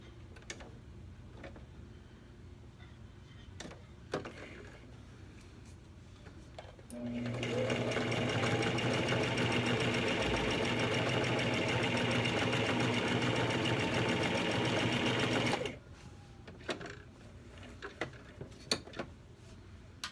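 A sewing machine stitching a fabric seam, a close, steady motor whir lasting about eight seconds, framed by quiet handling clicks and small taps before and after.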